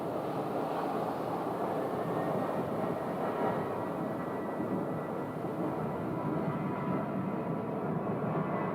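An airliner departing from runway 25 right at Phoenix airport, a steady low roar of jet engines at a distance, broad and constant with a faint tonal whine above it.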